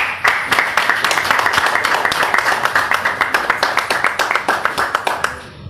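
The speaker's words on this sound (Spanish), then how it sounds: "Fuerte el aplauso." Applause from the audience at a live show in a beer club, with dense, steady clapping. It holds loud throughout, then thins and stops at the end.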